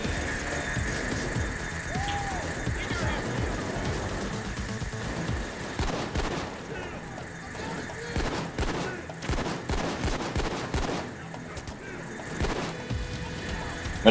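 Gunfire at a shield in Payday 2: rapid bursts of automatic shots crack repeatedly at close range, thickening into dense volleys, with voices talking over the shooting.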